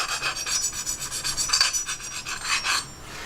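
A Gold Dollar 66 straight razor is honed on a stone at a 45-degree angle to remove the burr, producing steady, close rasping strokes in an even back-and-forth rhythm with no voices.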